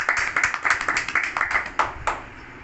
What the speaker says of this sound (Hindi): तो आप सभी के लिए एक बार जोरदार ताली हो जाए।